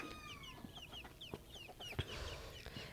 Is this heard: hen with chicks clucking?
yes